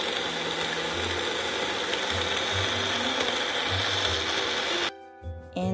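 A blender grinds frozen watermelon with laban fermented milk and a probiotic. The loud, steady, close whirring runs for about five seconds, then cuts off into a few brief softer sounds.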